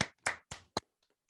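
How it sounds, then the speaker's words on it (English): A few people clap: four quick, sharp hand claps in an uneven rhythm, fairly faint, followed by near silence. "Clap it up for the boy"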